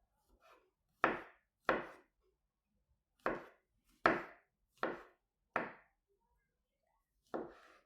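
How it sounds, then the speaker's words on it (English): A knife chops mushrooms on a board in a quiet kitchen: about seven sharp, separate chops at an uneven pace, close and distinct, with no talking. "We're chopping up mushrooms."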